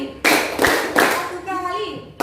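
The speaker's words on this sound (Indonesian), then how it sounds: "Tepuk 1 kali. Tepuk 2 kali. Tepuk 3 kali." A classroom of children claps together on cue in a few loud, sharp group bursts, each one crisp and close. A voice follows afterward in a schoolroom setting.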